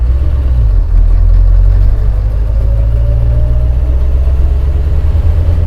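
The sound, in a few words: KAMAZ truck rear gearbox making unusual sounds while accelerating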